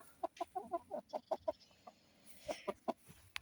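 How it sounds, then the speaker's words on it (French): Chickens clucking in a pen of roosters on a French farm, a rapid series of short nasal calls in two bursts with a pause between, fairly close and clear, with no talking. "Et maintenant, on va aller voir les coqs."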